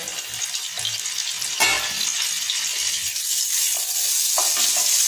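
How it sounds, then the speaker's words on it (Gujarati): Butter goes into hot oil in a pan for pav bhaji, giving a loud, continuous close sizzle with a few soft knocks and stirring touches and no talk. "આપણું તેલ ગરમ થઈ ગયું છે, તો હવે તેમાં આપણે નાખીશું બટર"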